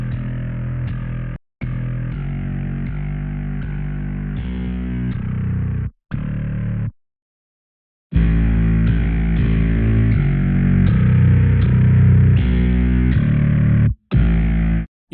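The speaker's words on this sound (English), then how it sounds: "he used a combination of compression, saturation and distortion to shape the tone of the grid" A distorted synth bass part, shaped with compression, saturation and distortion, in a metal track, plays loud and dense in sustained phrases broken by a few short silent gaps.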